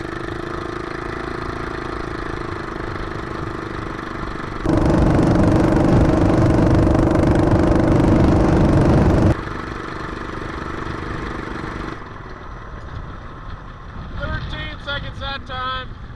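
Off-road vehicle with a 212 engine accelerating from a standstill to 30, a steady mid engine drone that surges louder for a few seconds and then drops back, with people talking over it.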